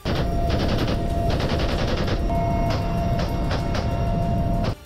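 Bursts of automatic gunfire from a Russian Mi-8 helicopter firing on Ukrainian army positions, loud rapid strings of shots in several volleys over a constant engine drone, ending abruptly.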